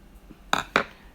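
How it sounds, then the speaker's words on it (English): Scissors make two sharp, close snips in quick succession while cutting a Braille label, with near silence around them. "very carefully cut that"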